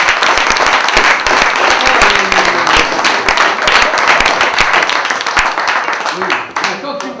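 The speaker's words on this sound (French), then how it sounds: "On l'applaudit, hein." Loud, close applause from an audience at a Limousin storytelling evening, many hands clapping steadily with voices mixed in, dying down near the end.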